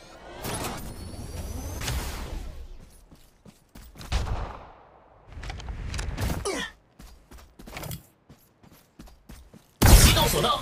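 Gunfire from the mobile battle game Apex Legends Mobile, with bursts of sharp shots and mechanical clatter spread across the clip and a loud blast near the end, amid game effects.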